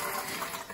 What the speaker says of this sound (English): draining off some of the water. And it's hot water from that little tap all the way down there.